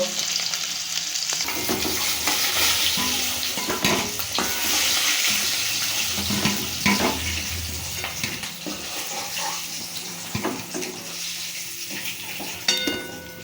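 Desi chicken eggs fry in a pan with a loud, bubbling sizzle, broken by frequent spatula scrapes and clatters as they are turned and lifted.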